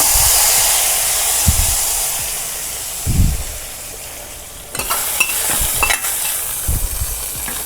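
A spiced tempering is tipped into a pot of festival Thiruvathirai seven-vegetable kootu, bringing a steady hot sizzle with a few soft knocks and scrapes of stirring spread through it, and no voices.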